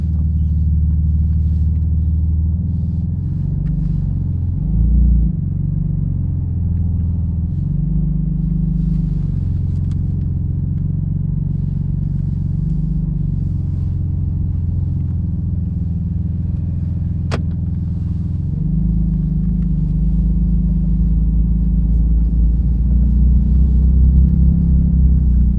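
Inside a Porsche 911 GT2 RS with Manthey Racing modifications on an onboard ride, a deep, loud engine rumble drones steadily, rising and falling with throttle and gear changes.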